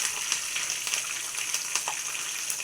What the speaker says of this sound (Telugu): చూడండి, తాలింపు ఇలా అయిపోతుంది.